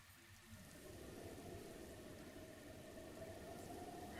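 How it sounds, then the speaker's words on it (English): Rain falls steadily in Zelda: Breath of the Wild near Akkala Tower, a faint, even hiss of downpour with soft tonal background sounds underneath. "I really don't want to have to sit here and wait for this rain to pass"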